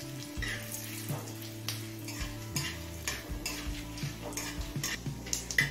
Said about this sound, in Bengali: তেল গরম হলে দিচ্ছি হাফ চামচ গোটা জিরে, দুটো তেজপাতা আর একটা শুকনো লঙ্কা।